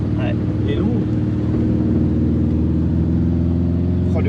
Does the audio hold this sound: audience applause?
no